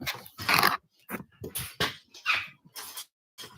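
A young puppy whimpers and squeaks up close in a string of short, uneven high whines and yelps with brief gaps between them.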